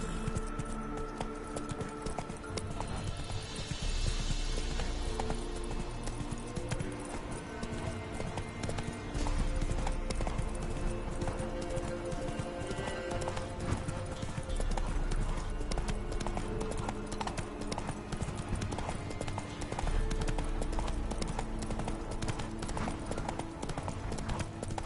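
Roach the horse walks with steady, close hooves clip-clopping in a regular rhythm throughout, over a constant background bed, with no clear talk.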